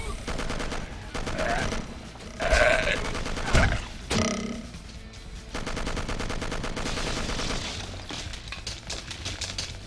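Machine gun fire in the video game Will Rock: rapid, rattling bursts interrupted by a few heavy thuds and grunting effects, at moderate loudness throughout.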